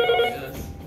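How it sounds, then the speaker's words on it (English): A telephone rings loudly and close in an empty lobby, one short burst of bright ringing that quickly fades. "The phone was ringing and there was no one in here."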